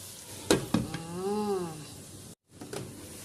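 Cabbage with mushroom and chicharon cooks quietly in a pan, giving a faint, steady sizzle with a few soft clinks near the start and a brief drop to silence near the end.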